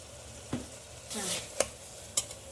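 Soya keema fries with fenugreek in a pan, a low, steady sizzle broken by three sharp spatula scrapes and a brief surge of louder frying, heard close with no voices.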